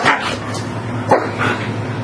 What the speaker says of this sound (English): enough with the barking